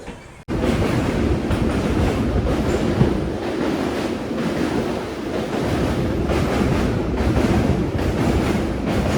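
The Amrit Bharat Express pulls out of Hajipur Junction station in Bihar, a loud continuous rumble of rolling wheels and carriages with wind-like roar starting abruptly and holding steady throughout.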